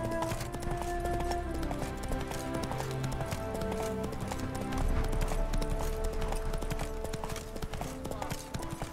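Roach the horse gallops in The Witcher 3, steady clip-clop hoofbeats drumming under game music and ambient sound, with a brief surge in intensity midway.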